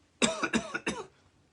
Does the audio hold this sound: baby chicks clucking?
no